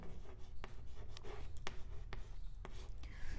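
Chalk or marker strokes on a board during a Sanskrit grammar lesson, quiet scratchy taps and short rubbing strokes in an irregular rhythm with no talk.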